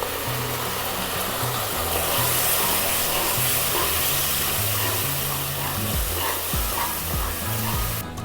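Ground spice paste hitting browned onions in a hot pan, a loud, continuous sizzle close by, with bursts of stirring and scraping running through it.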